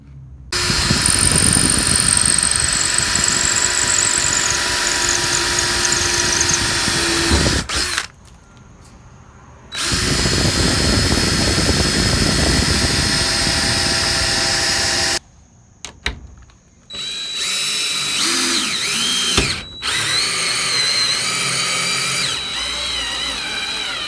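Power drill driving screws into finished cabinets, loud sustained whirring bursts with a couple of short pauses and a brief break, close by with no talking.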